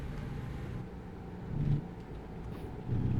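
A truck engine in a truck driving video game rumbles low and steady, then briefly swells twice as the gas is tapped, a soft continuous drone with no talk.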